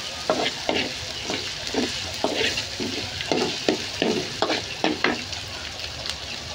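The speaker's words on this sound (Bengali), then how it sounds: "পেঁয়াজ রসুন তেলের সাথে ভালো মতো ভেজে নেব।" Chopped onion and garlic fry in oil in a wok, a steady sizzle punctuated by regular scraping stirs of the spatula, close and moderately loud, without any voices.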